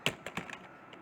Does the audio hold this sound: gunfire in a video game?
no